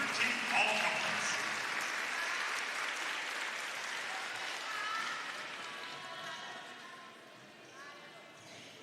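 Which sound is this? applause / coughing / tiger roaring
applause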